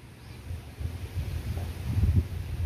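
Strong monsoon wind blows outdoors without rain, a low, gusty rumble that buffets the microphone and swells louder toward the end, with no voices.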